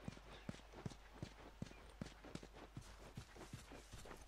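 Horse hooves clip-clopping in The Last of Us video game, a steady walking rhythm of hollow hoof strikes at moderate loudness over a low background rumble.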